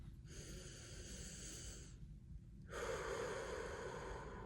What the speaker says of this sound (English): breathing in through your nose, and I want you to breathe out through your mouth